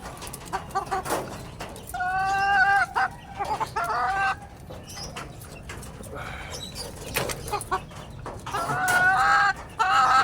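A Boston Cross Sweater Gilmore gamecock stag and other roosters call and crow repeatedly in a farmyard, loud, with clucking fowl in between and no talking.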